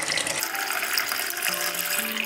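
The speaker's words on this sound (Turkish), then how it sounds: "üstüne sıcak su ekliyorum" Hot water pours from a kettle onto wheat in a cooking pot while making diş hediği soup, a steady close splashing stream that runs unbroken with no voices.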